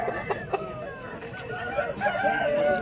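A young rooster at a Vijayawada poultry market crows close by, a short rising and wavering call near the end, with a couple of sharp knocks and low background murmur before it.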